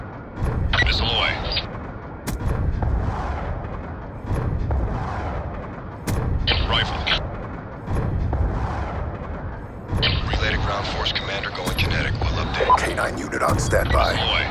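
Missile strikes explode in Black Ops 2 on the Nuketown map during Demolition, as a run of booming blasts and gunfire bursts under repeated radio-style voice callouts from a VTOL warship.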